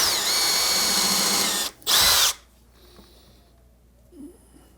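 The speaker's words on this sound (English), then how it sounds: "I'm using a number 6 tapered drill bit countersink combination." A power drill with a number 6 tapered countersink drill bit whines steadily into wood, briefly stops, gives one short loud burst, and then falls quiet.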